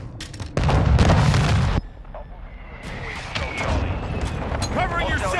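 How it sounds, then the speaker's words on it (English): Mortar strike in Call of Duty Modern Warfare II: a loud deep blast roars for about a second, then distant rumbling booms and scattered gunfire continue under voice callouts. "Hostile mortar strike near your position."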